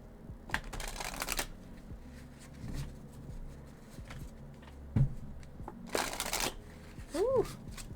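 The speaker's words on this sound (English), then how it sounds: "Such a nice shuffle." Close, crisp riffle bursts of a card deck being shuffled, repeated several times, with a brief voice and small handling noises in between.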